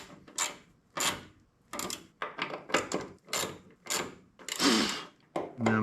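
A ratchet with an extension snugging fuel pump bolts on a Ford F-150 in a cross pattern, giving quick bursts of close clicking separated by short pauses, with no talk.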